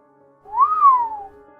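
A single clear whistled note, rising and then gliding down, lasting about a second against quiet background.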